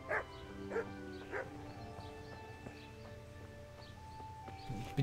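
A dog in the video game Kingdom Come Deliverance gives a few short, sharp barks, three in quick succession and another after a pause, over faint hoof clops in the background.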